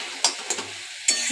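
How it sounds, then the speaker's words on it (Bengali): Red amaranth greens with poppy seeds are stirred in a pan, giving three or four brief scraping strokes over a soft, steady sizzle, close and fairly quiet with no talking. "পোস্তটা দিয়ে একটু নাড়াচাড়া করে নিচ্ছি।"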